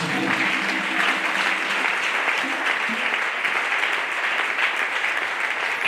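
Church congregation applauding steadily throughout, a dense continuous wash of clapping with faint cheering voices mixed in, even and sustained from start to finish.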